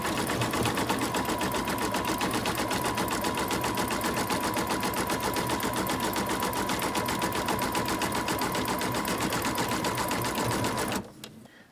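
A sewing machine runs steadily, stitching a zigzag along the joined edges of embroidered placemat sections, a close, even mechanical whir and rapid needle clatter that continues for about eleven seconds before stopping abruptly.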